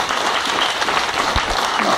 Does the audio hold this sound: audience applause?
yes